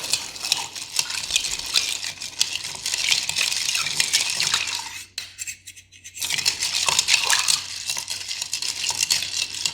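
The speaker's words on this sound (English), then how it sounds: "Want to stir it really, really good because you want to make sure to mix in all of that delicious luster dust" A spoon stirs a cocktail with luster dust inside a shaker, giving steady clinking and swirling at close range. There is a short quiet pause, and then the stirring starts again.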